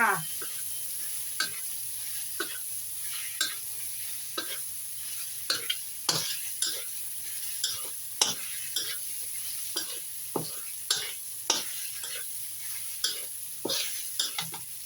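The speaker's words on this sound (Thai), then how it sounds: "ปลาได้เกือบสุกแล้วนะคะเราทอดเกือบเกือบสุกจ้ะ" Fish fries in a pan beneath a low, continuous sizzle while a utensil scrapes and taps the pan in regular, repeated strokes, close and clear.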